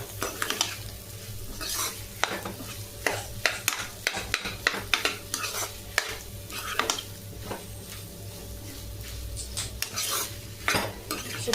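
A spoon scrapes and clinks against a pan while a mashed potato mixture is stirred, with a soft sizzle of frying underneath; the scraping comes in irregular close strokes with occasional sharper knocks.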